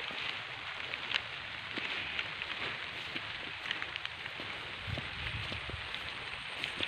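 Light drizzling rain falls outdoors on a wet rural field, making a steady soft hiss with scattered faint drip taps.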